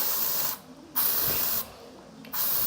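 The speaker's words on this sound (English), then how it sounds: "Maybe a little body spray" Body spray hisses onto a batch of glue-free jiggly slime in short, steady bursts: about three close, loud sprays with brief quiet gaps between them and no talking.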